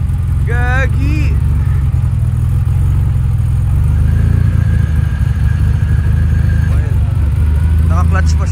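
The 600hp Porsche 930 Blackbird idles with its clutch engaged, giving a loud, steady, deep engine rumble close by, with people talking over it at the start and near the end.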